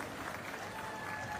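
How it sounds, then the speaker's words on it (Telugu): An audience at a public government event applauds, a brief, even wash of clapping heard faintly from a distance. "గట్టిగా చప్పట్లు కొట్టి అభినందించండి."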